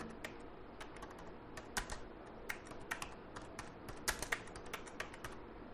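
Quiet typing on a computer keyboard, with irregular clusters of soft key clicks and a few sharper taps over a low room hiss.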